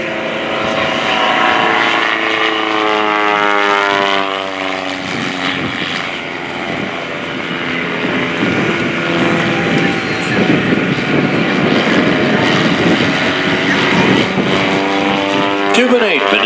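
Kent Pietsch's propeller aerobatic airplane maneuvers at the 2017 Melbourne Air & Space Show, its engine note swelling, fading and shifting pitch as it passes, with an announcer talking over it.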